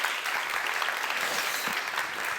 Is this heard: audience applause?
yes